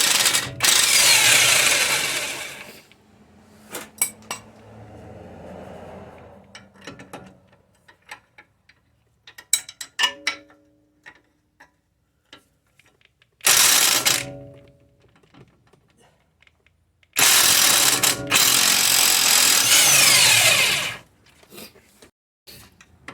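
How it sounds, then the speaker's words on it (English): Bolts coming off the front axle of a Mercedes GLK 350 4Matic X204, with long loud bursts of a power tool spinning them out, separated by quieter clicks, clanks and handling noises, close up. "Now I'm just going to remove these two bolts."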